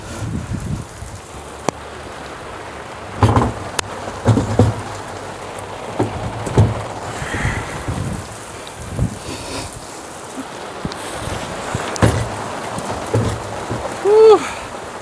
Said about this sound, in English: We're doing this in the rain.